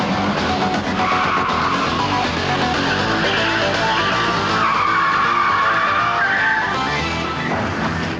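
Tyres squeal loudly and continuously as a BMW saloon skids through a car park getaway, a sustained high screech layered over engine roar that holds for the whole stretch.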